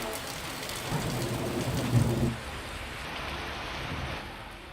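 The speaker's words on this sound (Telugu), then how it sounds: "వికారాబాద్ జిల్లాలో పలుచోట్ల భారీగా ఈదురుగాలులు, ఉరుములు, మెరుపులతో కూడిన చిరుజల్లులు కురిశాయి" Steady rain with gusty wind during a storm, a dense wash of hiss and rushing air swelling in the first half, then easing into a softer, even downpour, with no voices.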